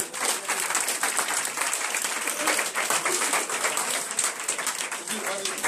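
Audience applause in a church service, a steady, dense wash of many hands clapping that fills the room for several seconds, with voices faintly mixed in.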